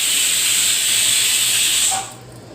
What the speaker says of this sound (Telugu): ఇలా మిక్సీ పట్టుకున్నాం